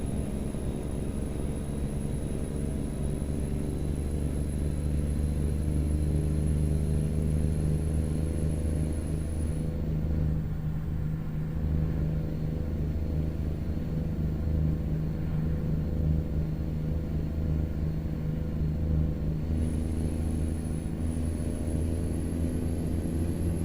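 A truck in American Truck Simulator drives along with a steady, low engine drone and road rumble, loud and continuous, with a faint high tone coming and going.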